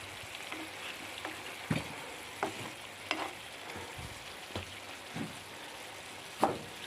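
Apple pastry frying in a pan on the stove, a soft steady sizzle with faint crackles and a few sharper pops and stirring clicks scattered throughout, close and quiet, with no talking.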